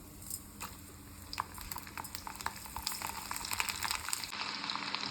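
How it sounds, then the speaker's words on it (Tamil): Garlic cloves and cumin fry in a pan of hot oil, giving a faint, steady crackling sizzle with scattered sharp pops and spatters that grow busier toward the end, without any talking. "இதில் ஒரு 10 பல்லு பூண்டு போட்டுட்டு போகிறேன்."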